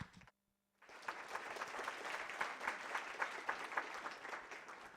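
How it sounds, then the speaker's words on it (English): An audience at a programming conference talk breaks into applause after a brief silence, a dense steady clatter of clapping that holds for several seconds. "Please give him a warm applause."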